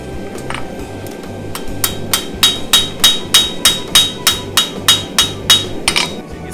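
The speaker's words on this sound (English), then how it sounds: "you can just do a very gentle, very light hit that will just help kind of straighten things back out again" A light hammer taps steadily along the spine of a bench knife on an anvil, a run of about fifteen evenly spaced, sharp metallic hits that grow firmer, close and clear.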